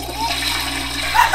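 Toilet flush and water splash from a baby being flushed in the horror video game The Baby in Yellow, a steady rushing wash of water that swells slightly toward the end, heard up close.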